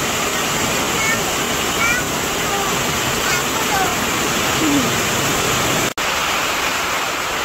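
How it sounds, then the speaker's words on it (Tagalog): Heavy rain pours down on a house with a leaking, hole-ridden roof, a dense, loud and steady hiss with no letup apart from one brief cut near the end. "Grabe po ang lakas ng ulan."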